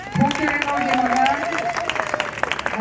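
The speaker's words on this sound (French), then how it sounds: "vos applaudissements pour קרן אור גמרא" Wedding guests at a Jewish huppa ceremony clap in a lively patter of overlapping hand claps while a voice carries on over them.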